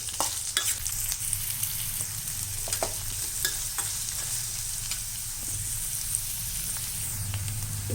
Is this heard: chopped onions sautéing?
yes